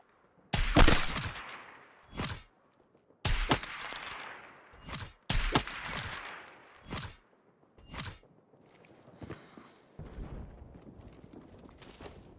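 A PSR sniper rifle fired in a video game, several sharp, loud gunshots at irregular intervals, each followed by a brief fading tail, with quiet gaps between the shots.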